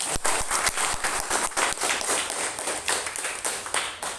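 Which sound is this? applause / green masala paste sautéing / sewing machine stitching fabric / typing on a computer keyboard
applause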